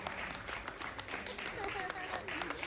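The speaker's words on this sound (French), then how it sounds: "est-ce qu'on peut l'applaudir jusqu'à la fin?" Children applauding at a 20th-anniversary celebration in Mali, a steady patter of many small hands clapping together, faint and somewhat distant, continuing without a break.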